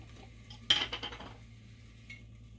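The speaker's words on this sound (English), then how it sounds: "I'm going to use this spoon right here" A spoon being handled gives one sharp clink followed by a few quick, fainter metallic rattles, close and quiet, with another light tap near the end.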